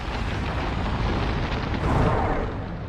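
A massive star exploding, rendered as a deep, continuous rumbling roar that swells slightly midway and stays loud and dense throughout.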